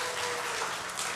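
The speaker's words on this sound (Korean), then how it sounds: "박수하겠습니다." A brief burst of applause from a church bible-school gathering, dense overlapping claps filling the moment.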